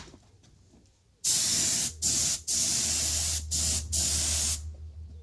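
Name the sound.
spray painting a repaired mag wheel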